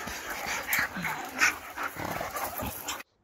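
A dog whimpers, whines and pants in short bursts at close range, with a brief low growl-like sound mixed in, before cutting off abruptly.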